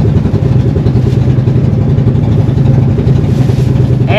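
Twin engines of an island-hopping boat at Alaminos, Pangasinan drone loudly and steadily up close with a throbbing low rumble, no talk over it.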